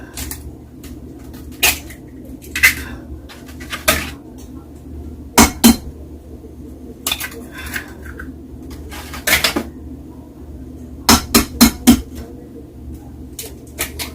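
Ten medium eggs being cracked into a bowl for homemade cheesy scrambled eggs: sharp, close taps and knocks arrive singly and in quick clusters against a quiet kitchen background.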